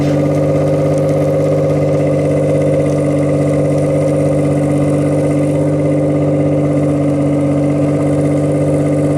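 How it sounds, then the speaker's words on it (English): A Mitsubishi 3000GT engine idles steadily at a fast, high idle, a constant droning hum with strong tonal harmonics and no variation throughout. "Has a very high idle though. It's idling very fast."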